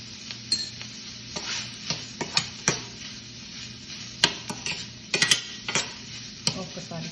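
Sweet corn frying in a pan is stirred with a utensil, giving repeated sharp scraping clicks and taps at an irregular pace over a low, steady sizzle, close and clear.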